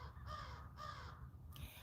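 Crows caw outdoors in three harsh, drawn-out calls of moderate loudness, each separated by a brief pause, over a steady low background rumble.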